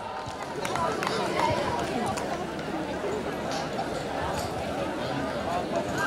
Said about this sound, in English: Audience, may we have a huge round of applause for our performers.